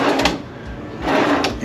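A drawer in a Courtyard by Marriott hotel room in Houston Springwoods slides open and shut, with two or three close wooden scrapes and knocks in a short burst.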